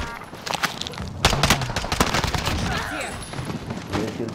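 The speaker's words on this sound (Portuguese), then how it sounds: "Muito tiro!" Rapid bursts of gunfire crackle and pop over a busy mix of Call of Duty: Modern Warfare game sounds, dense and loud throughout.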